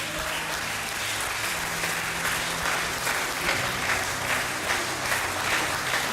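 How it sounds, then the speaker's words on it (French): A church congregation applauds steadily in a sustained wash of clapping, with faint murmuring and a low hum underneath. "Est-ce que vous pouvez l'applaudir?"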